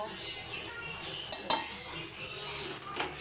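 Palm-fruit kheer poured into a vessel in a home kitchen, with quiet metal utensils clinking and scraping against the pot, a couple of sharper clinks standing out.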